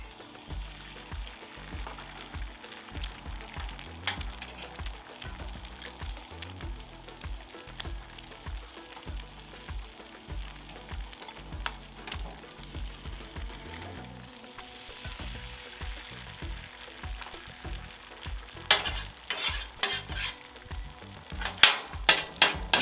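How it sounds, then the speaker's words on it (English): Three eggs fry on a 36-inch Blackstone griddle, giving a low, steady sizzle broken by frequent scraping and tapping of a spatula, which grows busier and louder near the end. "We use 3 eggs. Just fry them here and then chop them up."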